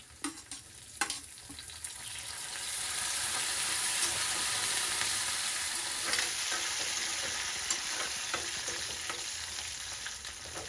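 Curry leaves hit hot oil and fry with a steady, crackling sizzle, a few sharp pops near the start, then a continuous hiss that fades gently, close and clear with no talking.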